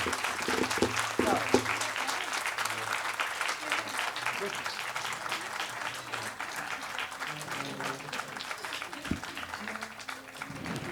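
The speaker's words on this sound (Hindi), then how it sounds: "भाई तालियां बजाओ दादा के लिए।" An audience at a Hindi poetry gathering applauds a veteran poet, producing sustained, moderately loud clapping with scattered voices and murmurs mixed in.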